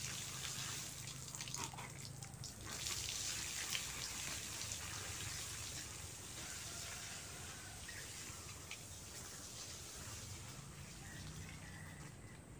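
Water sprays steadily onto longan trees in an orchard, a soft, continuous hiss and patter like light rain that stays faint and even throughout, with no talk.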